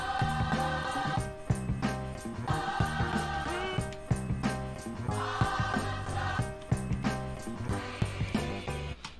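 A chopped soul music sample arranged for a beat plays continuously, with steady looping rhythmic hits and layered melodic tones, dense and moderately loud, with no voices over it.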